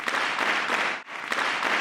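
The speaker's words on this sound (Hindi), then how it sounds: "तो आइए अपने कॉलेज की शान अवनी का जोरदार तालियों से हम स्वागत करते हैं।" An audience at a college event claps loudly to welcome an honoured young woman, dense applause with a brief dip in the middle before it resumes.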